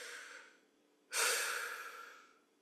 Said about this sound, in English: we take a breath